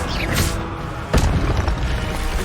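Incendio fire spell cast in Hogwarts Legacy, a whooshing burst followed by a sharp flaring blast about midway, loud and close over a dense background of game ambience.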